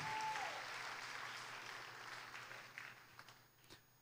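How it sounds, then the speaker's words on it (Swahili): A church congregation at a Sunday service claps together in a sustained round of applause that starts full and gradually thins out into scattered claps near the end. "Wampigie Yesu makofi mahali hapa."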